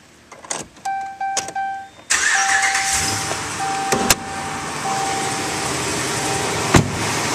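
A 2010 Dodge Ram 2500 crew cab pickup with a 5.7L HEMI V8 and 4WD is started with a few key and chime sounds, then the engine catches and settles into a steady, close idle with a faint whine.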